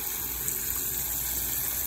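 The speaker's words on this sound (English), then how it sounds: "You fill it up with water." Water running steadily into an Instant Pot for Korean seaweed soup, a constant rushing gush with no pauses, fairly quiet and heard alone.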